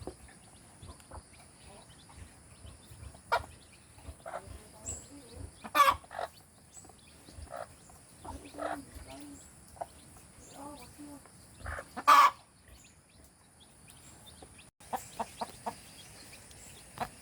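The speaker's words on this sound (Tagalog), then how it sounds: "Tukan-tuka po yung mga sisiwa natin" Native chickens and their chicks cluck softly in scattered bursts, with intermittent pecking taps and occasional louder calls over a low background, and a person talks at times.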